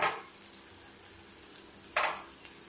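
Onion, tomato and chili fry in a pan with a soft, continuous sizzle, broken by two short, louder scraping stirs near the start and about two seconds in.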